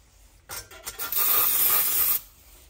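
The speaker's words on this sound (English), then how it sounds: "Spray a little brake clean through it then." A short spray of brake cleaner hisses in two quick bursts, then one steady blast of about a second and a half, close to the microphone, cleaning a Predator 212cc engine part.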